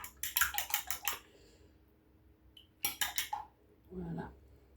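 Vegetable tart filling whisked in a bowl, two quick runs of rapid rhythmic clinking of utensil against the bowl, separated by a pause, with a brief murmur of speech at the end.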